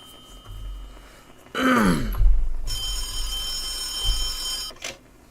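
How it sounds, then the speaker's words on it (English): A telephone rings indoors with a steady electronic trill lasting about two seconds, moderately loud, after a brief throat-clearing sound and low background rumble. "Phone's ringing."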